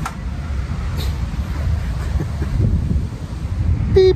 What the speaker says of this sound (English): it's getting windy out here